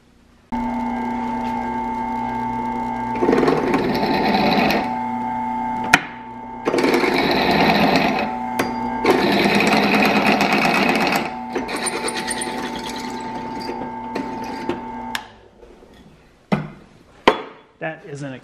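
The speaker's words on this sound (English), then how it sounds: "change to a larger drill bit and finish off those holes" An inexpensive drill press runs with a steady motor whine, bursts of grinding as the bit cuts through metal, then winds down with a few clanks.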